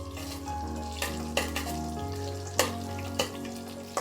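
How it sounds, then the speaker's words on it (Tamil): Star anise, cloves, cardamom and fennel seeds sizzle softly in hot oil for a millet biryani, with a low steady frying hiss and a few sharp clinks of a spoon against the pan. "ஸ்டார் அனீஸு, கிராம்பு, ஏலக்காய், சோம்பு எல்லாம் போட்டு தாளிச்சிட்டு நல்லா கொஞ்சம் பொரியட்டும்"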